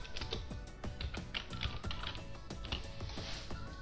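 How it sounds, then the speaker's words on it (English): Rapid, close tapping on a computer keyboard, a quick run of light clicks at an uneven rhythm over a few seconds, with no one speaking. "type Skype"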